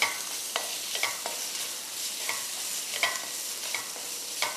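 Prawns and garlic stir-frying in a pan for Chinese prawn egg rice: a steady close sizzle with scattered scraping clicks of a spatula stirring every second or so, no voices.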